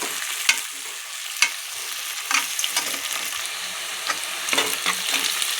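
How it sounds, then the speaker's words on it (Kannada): Long-sliced onions frying in a pan for spinach pulao, a soft continuous sizzle punctuated by several sharp scrapes and clinks of a spatula stirring, close and alone without talk. "ಈರುಳ್ಳಿ ಫ್ರೈ ಆಗ್ತಾ ಇದ್ದಂಗೆ"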